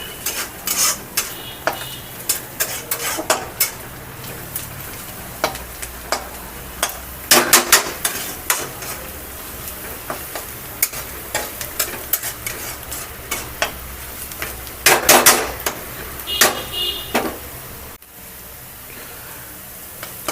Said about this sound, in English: Give it a little fry again.